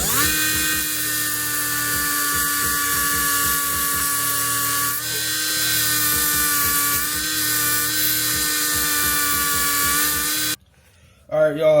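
A power tool whines steadily as it cuts a slot into a part on a Nissan S15 car build, a loud, sustained high-pitched tone with pulsing undertones that cuts off abruptly near the end.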